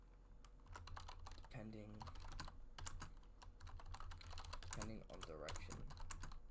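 Fast, steady typing on a computer keyboard while writing notes for a trading plan, with key clicks continuing under a man's speech throughout.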